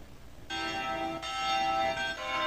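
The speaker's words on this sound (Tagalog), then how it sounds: "sabay-sabay na pinatunog ang kampana sa lahat ng simbahan sa Zamboanga City" Church bells ring out across Zamboanga City, a loud, sustained metallic tolling with fresh strikes layering over lingering resonance, close and clear with no talk.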